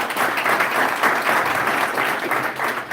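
Sustained applause from a large crowd, steady and dense throughout with no voices standing out.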